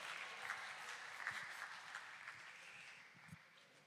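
A group at a summer student camp gives a short burst of applause, faint and distant, which thins out toward the end.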